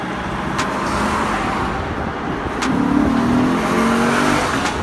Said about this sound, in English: a naturally aspirated engine, and it's a growling sound that you get from the exhaust